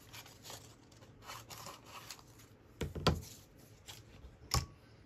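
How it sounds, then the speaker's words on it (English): Card stock being cut out by hand, with faint scattered snips and rubbing scrapes plus a few sharper clicks of the blades closing, quiet and close with no talking. "So I'm just going to cut this one out."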